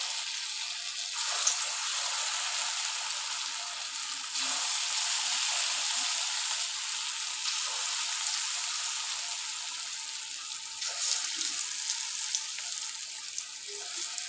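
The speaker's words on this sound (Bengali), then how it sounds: "এইভাবে ব্যাচ ওয়াইজে আমি ভেজে নেব" Dahi vada batter fries in batches in hot oil with a steady, soft sizzle and bubbling hiss that keeps going at an even, fairly quiet level, with slight swells and no talking.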